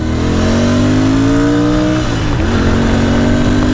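A Royal Enfield Interceptor 650 motorcycle engine revs hard up close, its pitch climbing steadily, dipping briefly, then rising again; loud and continuous with no voices.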